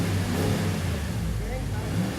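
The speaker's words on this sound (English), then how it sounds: "Give it a rev" A supercharged HEMI V8 in a RAM 1500 pickup revs with a deep, rough roar, loud and steady throughout, while a voice speaks over it.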